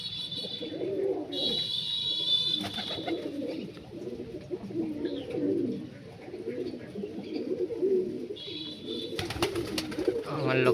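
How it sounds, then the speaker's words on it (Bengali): Punjabi malwai pigeons coo in a loft, with soft repeated throaty calls overlapping one another at close range and a few brief higher chirps and rustles among them. "এই হচ্ছে পায়রা"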